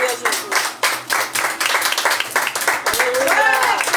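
A church congregation at a Pentecostal worship service claps in a rhythmic run of sharp bursts, loud and close, with voices calling out over the applause throughout.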